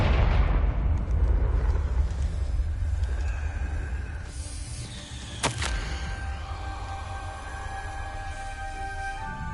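The Confringo fire spell explodes in Hogwarts Legacy, a loud rumbling blast that slowly fades, followed by a sharp crack and a lingering ringing tone.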